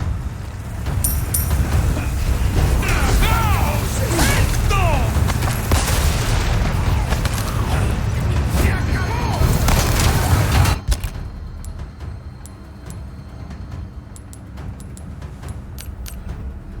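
Shotgun fire in the video game Resident Evil 4 Remake, a dense stretch of loud booming blasts and combat noise under a voice, cutting to quieter game ambience with faint clicks.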